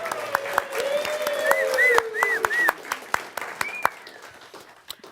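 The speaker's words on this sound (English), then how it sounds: "everybody could give you a nice applause on your birthday." Small gathering applauding someone's birthday: scattered, sparse claps over a background of overlapping tonal sounds, moderately close, with no talk.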